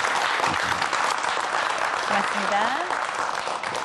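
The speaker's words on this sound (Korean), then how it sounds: "놀라운 말씀을 해주신 우리 최나건 선생님께 여러분 박수 부탁드리겠습니다." A studio audience applauds a lecturer after a televised science talk on taste, a dense and steady wash of clapping with a voice faintly speaking underneath.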